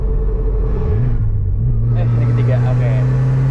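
A BMW E30 fitted with a Nissan SR20DET turbo engine accelerates, its loud close engine tone climbing in pitch, easing briefly, then rising again as occupants talk over it.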